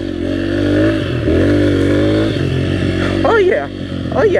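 A dirt bike engine revs hard through a wheelie on an enduro ride, rising and falling in pitch, loud and close, with voices talking over it and someone whooping near the end.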